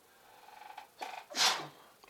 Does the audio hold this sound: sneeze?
yes